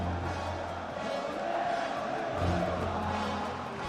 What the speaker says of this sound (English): despite the cheers coming back out, look pretty nervous